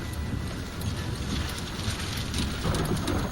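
Heavy storm rain during a tornado chase near the interstate in Tuscaloosa, Alabama, a dense steady roar of rain mixed with wind buffeting the microphone, with no voices.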